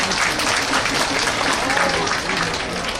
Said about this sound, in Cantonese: 我哋用熱烈嘅掌聲歡迎大家嘅蒞臨。